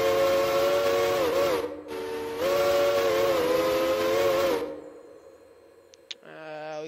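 A three-chime MEC steam train whistle from a Railroader game mod gives two long, loud, hissing blasts with a short break between them, then fades, followed by a brief quieter tone.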